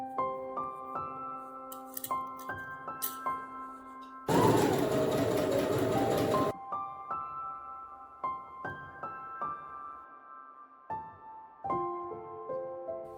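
A sewing machine stitches skirt pieces together with French seams, one fast continuous whirring burst of about two seconds, heard close against soft background music.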